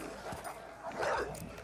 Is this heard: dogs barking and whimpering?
yes